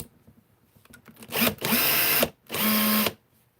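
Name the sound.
Bosch power drill running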